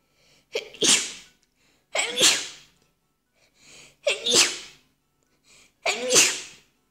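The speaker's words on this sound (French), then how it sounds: "Désolée si j'ai éternué, c'est dégueulasse." A woman sneezes four times in a row, each sharp burst close and loud, separated by short pauses with faint breaths in between.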